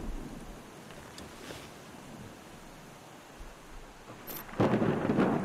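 Heavy night rain hisses steadily outside a city apartment in Booth, with faint distant rumbles before a loud crack of thunder bursts in near the end.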